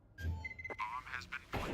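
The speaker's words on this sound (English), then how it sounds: "Planting the bomb." A bomb is planted in Counter-Strike 2, with short electronic keypad beeps and clicks over a brief burst of game voice and background noise.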